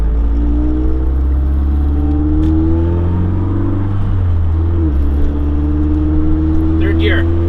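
A Mazdaspeed 3 fitted with a big turbo running 25 psi on BNR S5 pulls hard at full throttle, its engine drone loud and steady throughout, with pitch bands shifting as it climbs through the gears.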